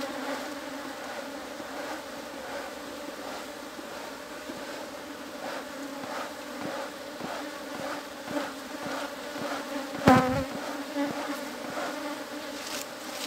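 Apis honeybees hum and buzz densely around an open hive as a beekeeper works frames and smokes them, a continuous close swarm drone with individual bees passing near and a brief louder knock partway through, no voices.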